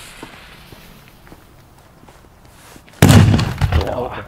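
A Pyrounion retro Kanonenschlag firecracker bursts in one sudden loud explosion after a stretch of faint outdoor shuffling and footsteps, followed by a rumbling tail.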